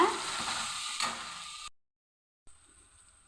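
Sizzling in a hot pan with a spoon stirring through ginger-garlic paste, steady frying hiss that cuts out, then resumes faintly.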